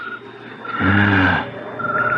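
Police prowl car in a radio drama rolling up and braking to a stop, a short low engine rumble swelling to a loud near peak with a brief tire squeal, then easing off into steady background.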